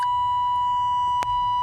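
A steady high-pitched warning beep from an older Chevy truck's dashboard, continuous and fairly loud, with a brief click partway through.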